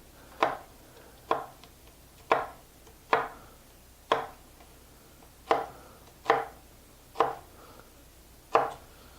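A knife chops through a flat onion on a cutting board, about ten crisp, evenly spaced strikes landing close and clear, with no talking, while onions are prepped for potato salad.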